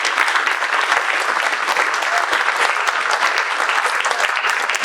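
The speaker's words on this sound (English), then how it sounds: "Let's give Keller another round of applause." Audience at a chamber of commerce breakfast in Lexington gives a sustained round of applause, dense steady clapping filling the room evenly from start to finish with no pauses.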